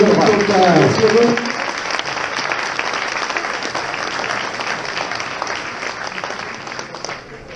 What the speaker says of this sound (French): on applaudit très fort le champion régional